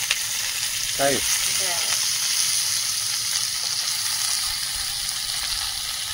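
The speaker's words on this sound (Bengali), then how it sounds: "এই সবজিগুলো একটু কষিয়ে নেবো, ভেজে নেবো।" Mixed vegetables, without the ridge gourd, fry in a pan with dried red chillies and crushed garlic for a Bengali chorchori. The sizzle is loud, close and steady throughout, and a voice speaks briefly near the start.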